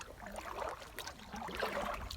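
A canoe paddled solo across a lake in the Canadian wilderness gives faint, soft water swishes and gentle splashes from the paddle strokes, low and quiet against a calm outdoor background.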